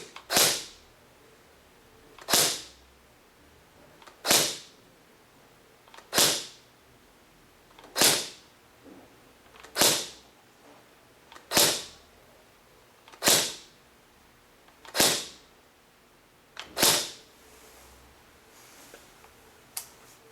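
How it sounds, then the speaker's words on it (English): A G&G FN2000 airsoft AEG, its spring guide fully recessed out of the gearbox, fires eleven single shots spaced about two seconds apart, each a sharp, close snap with a short decay in a quiet room. "our gun shoots about 400-ish FPS"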